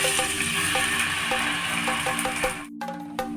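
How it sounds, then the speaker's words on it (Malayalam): Ginger and garlic sizzle steadily in a hot pan for an orange chicken dish, with soft, regular scrapes and clicks as they are stirred, loud and close, then a brief drop near the end before frying resumes. "ഇതൊന്ന് ഇളക്കി നന്നായിട്ടൊന്ന് സോട്ട് ചെയ്തെടുക്കാം"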